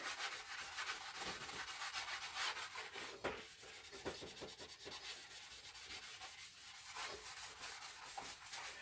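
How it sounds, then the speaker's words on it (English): A buffing block rubs along a sword blade in a steady, faint, close scraping hiss with brief sharper strokes, and no talking. "On with the buffing block."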